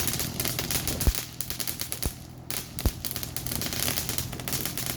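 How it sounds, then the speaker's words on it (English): Small firecrackers in a fireworks item pop in a dense, fast crackling stream, with a few louder bangs standing out over the continuous rattle. "they put little bitty firecrackers in this thing."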